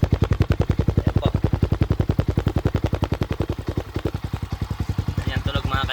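A Sniper 150 MXi motorcycle fitted with an Exos X6 exhaust pipe, revving with a loud, rapid, popping exhaust pulse close up, the beat holding steady before briefly easing.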